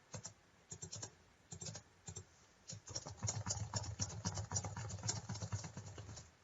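Fast typing of random text on a computer keyboard, close and steady, with dense rattling keystrokes that grow busier and louder in the second half.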